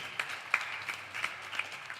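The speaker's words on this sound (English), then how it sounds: "Our Kirtan Mandali, give them a big hand." A temple audience at a Ramayan Yagna anniversary event in Mississauga gives a modest, thin round of clapping for the Kirtan Mandali singers, soft and scattered with occasional louder single claps.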